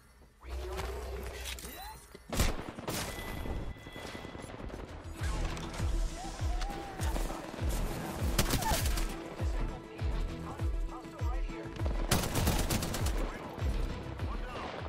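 Rapid automatic gunfire in the video game Apex Legends, with dense, bursty volleys of shots close and loud over several seconds, interrupted by short pauses and louder impacts.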